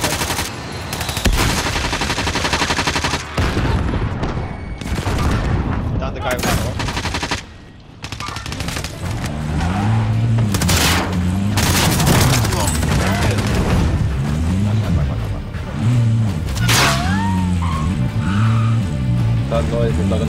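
Gunfire in Call of Duty: Modern Warfare rattles in loud machine-gun bursts and booms, mixed with vehicle engine noise and players talking over the action.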